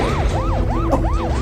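A police car siren wails loud and close, sweeping up and down in a rapid repeating yelp of about five cycles, with no voices over it.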